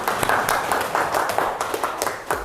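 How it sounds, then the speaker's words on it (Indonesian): Students in an Indonesian classroom clap for a group after a math lesson, a lively burst of individual hand claps with distinct sharp strikes, near and moderately loud, with no talking over it. "Oke, kasih tepuk tangan untuk kelompok 2."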